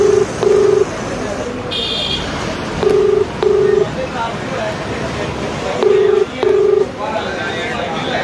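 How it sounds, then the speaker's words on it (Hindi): Outgoing ringback tones on a phone call to a manager, paired beeps repeating about every three seconds, heard over steady background noise with a brief tonal chirp. "घंटी जा रही है भाई, ये देखो।"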